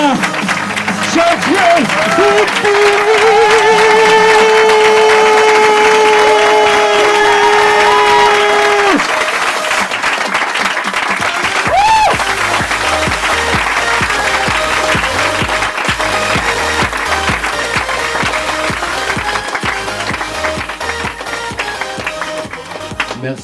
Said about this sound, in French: veuillez accueillir sous les applaudissements Sacha Béard et Augustin